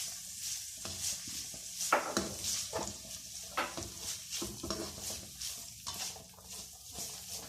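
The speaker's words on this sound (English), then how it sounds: "stir it a little bit like this" Spring roll filling with spring onions stirred in a hot pan, a spatula scraping and clacking in irregular strokes over a steady sizzle, close and fairly loud, with no talking.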